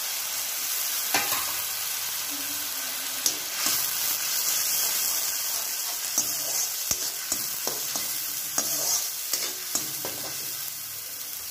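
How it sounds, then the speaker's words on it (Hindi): Spices and onion fry for baingan bharta, a steady close sizzle in a hot pan broken by the scrape and clack of stirring at irregular intervals, with no voices. "तो चलिए मसाले को इसमें डालते हैं। इसको अच्छे से हम फ्राई कर लेते हैं।"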